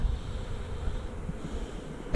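Low, steady hum of bees buzzing inside a beehive box, a continuous drone close by with no voices.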